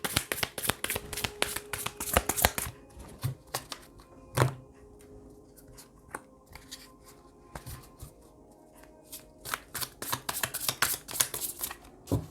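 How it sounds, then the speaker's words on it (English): Cards shuffled and pulled for a tarot-style card reading: bursts of rapid riffling flutter close up, a quieter stretch of occasional soft taps and card slaps, then another run of brisk shuffling. "I'll pull 3 cards here."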